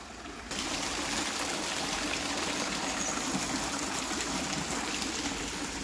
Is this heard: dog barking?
no